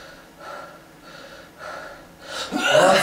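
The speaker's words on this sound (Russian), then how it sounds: "А еще там дыхание." Heavy, ragged breathing after a CrossFit workout, with several loud gasping breaths in a slow rhythm and a harsher, louder exhale at the end, close to the mic.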